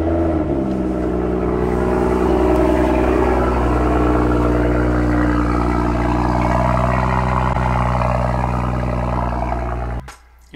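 A loud, steady exhaust on an F30 BMW 335i with a non-resonated midpipe drones deep and throaty, holding a constant rumble for about ten seconds before cutting off abruptly.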